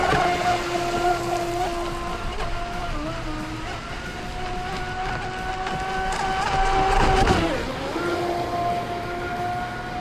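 A large self-righting ProBoat Super Sonicwake 48 RC boat runs on open water, its motor whining steadily with shifting pitch as it carves corners and gets back on plane, surging louder near the end.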